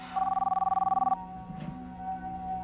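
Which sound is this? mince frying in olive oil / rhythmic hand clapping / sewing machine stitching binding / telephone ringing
telephone ringing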